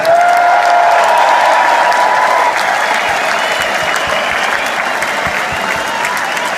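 A loud concert crowd applauds the performing choir, a dense roar of clapping and cheering that holds steady throughout.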